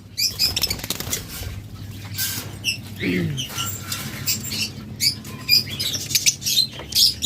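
Caged lovebirds flap their wings in repeated short fluttering bursts, close and fairly loud, with scattered chirps and small rustles between the flurries.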